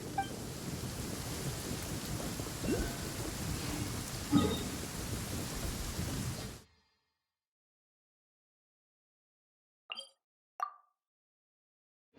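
Steady heavy rain with a low rumble of thunder in Genshin Impact fills the first half, then cuts off abruptly to silence, followed by a couple of brief isolated plops.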